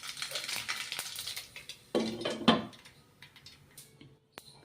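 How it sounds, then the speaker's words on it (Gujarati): Mustard seeds, cumin and asafoetida tempered in hot oil for an okra and potato curry, giving short crackling pops and sputters with a few sharper bursts near two and a half seconds, then fading to sparse ticks. "તો સૌપ્રથમ આપણે રાઈ અને જીરા અને હિંગનો વઘાર કરીશું."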